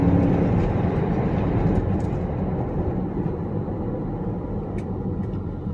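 A 2003 BMW X5 4.6is under kick-down acceleration from about 50 mph, a steady, loud, dense engine and road rumble that holds strong throughout with no speech.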